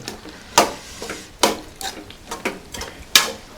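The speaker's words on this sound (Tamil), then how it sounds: "ஓகே, அப்படி ஒரு கிளறி விட்டு" Prawn thokku is stirred in a frying pan, with a handful of separate scraping strokes of the spoon against the pan over a faint sizzle.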